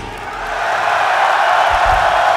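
Loud, sustained roar of a large metal-festival concert crowd cheering and shouting, swelling in the first half second and holding steady.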